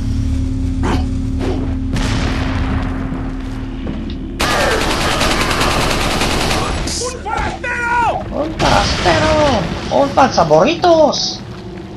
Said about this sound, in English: I threw the grenade, damn it!